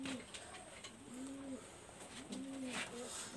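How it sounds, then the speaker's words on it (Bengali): Female Rampuri pigeons cooing, giving repeated soft, rolling coos close by over a faint background hiss, with no talking. "আমার কাছে এখানে 3 পিস আমি ফিমেল কবুতর আমি দেখাচ্ছি"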